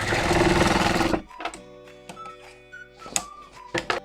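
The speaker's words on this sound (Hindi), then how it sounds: "यहाँ पर ऐसे सिलाई लगाना है।" A sewing machine stitches a katori blouse sleeve, running in one loud close burst for about a second, then falls quiet apart from a few scattered clicks and light handling taps.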